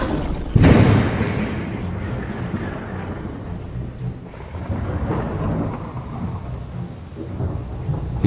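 A thunderstorm breaks with a loud, sharp thunderclap early on, followed by a steady wash of rain and rumbling that continues throughout.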